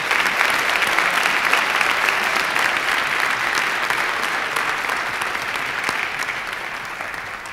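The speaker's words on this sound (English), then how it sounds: "can you give me one more round of applause for our panelists" Audience applause for panelists at a panel discussion, steady dense clapping from a full room that gradually eases over several seconds.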